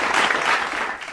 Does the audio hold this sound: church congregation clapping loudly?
yes